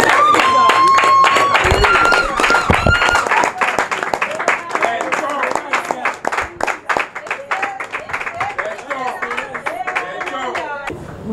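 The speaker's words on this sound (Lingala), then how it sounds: "Sous vos applaudissements" Applause for a treasurer at a Congolese political association gathering, a loud sustained crowd clapping that breaks into scattered claps as it fades, with voices talking over it.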